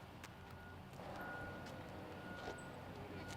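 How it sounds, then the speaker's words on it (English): Faint distant construction vehicle reversing beeps repeat in a regular pattern over a low background rumble of machinery and outdoor ambience on a disc golf course. "some of the beeping you hear in the background, we'll see it on the next hole. There's a lot of construction"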